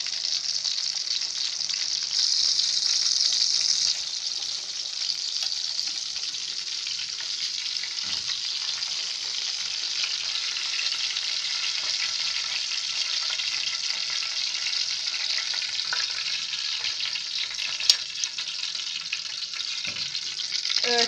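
Breaded chicken breasts frying in oil, giving a steady, close, dense sizzle that runs unbroken throughout, with a faint clink or two near the end.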